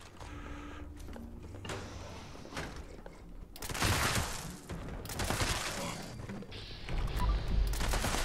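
An anti-armor explosive assault rifle in Fallout 76 fires loud, dense bursts of gunfire with blasting impacts that start after a few seconds and keep roaring on, following a stretch of quieter game sound and voice.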